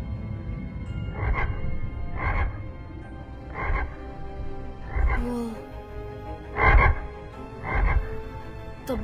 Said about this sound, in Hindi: तबाही मचाने वाला मेंढक।